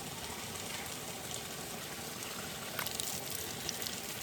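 Water poured over a dusty car during a wash, a steady broad rushing flow with a few splashes toward the end, no talking.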